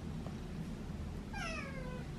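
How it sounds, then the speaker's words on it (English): A scared pet cat lets out a single drawn-out, rising-then-falling meow close by after a quiet stretch, with no talking. "it's my kitty screaming"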